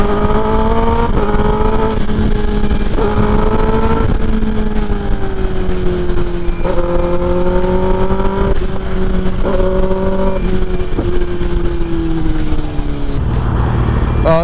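Kawasaki ZX10R motorcycle riding on the road, a loud steady engine drone with rising and falling revs through gear changes and constant wind rush, heard up close without speech.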